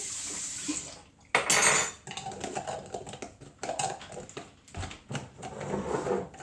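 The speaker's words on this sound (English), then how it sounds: "Then we'll rinse our spoon" A metal spoon is rinsed under running water at a kitchen sink during supplement preparation, with a clatter of cutlery and dishes, brief splashes, and small clinks in an uneven rhythm, close and fairly quiet, with no talking.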